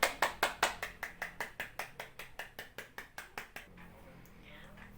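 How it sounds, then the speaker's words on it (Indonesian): A classroom claps for group 2 in rhythmic unison, about sixteen sharp, evenly spaced claps close by that stop abruptly after four seconds, leaving faint room noise. "Kita berikan apresiasi lagi dengan memberikan tepuk tangan yang meriah untuk kelompok 2."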